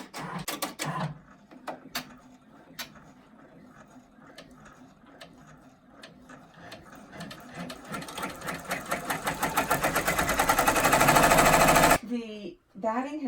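An embroidery machine stitches batting in place on an in-the-hoop mug rug, with rapid, rhythmic needle clatter that builds steadily louder and then stops abruptly. Scattered ticks and a voice come before it.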